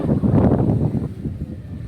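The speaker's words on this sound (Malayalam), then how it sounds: "നല്ല കാറ്റുണ്ട് ഇവിടെ" Strong wind gusts across a seaside temple by the sea, a loud, rumbling rush buffeting the microphone, heaviest in the first second before easing slightly.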